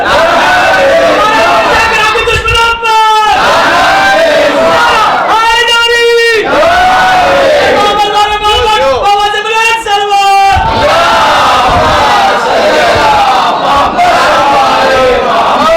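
A crowd at a Shia majlis chants a slogan in unison, loud massed voices rising in repeated drawn-out calls, with a lead voice and the crowd's shouted responses alternating.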